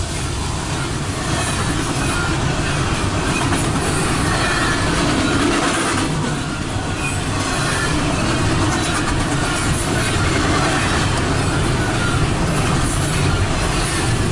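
Norfolk Southern NS 227 intermodal freight train passes close by at speed, a loud continuous roar of wheels and cars with rhythmic clatter and faint squeal throughout, no speech over it.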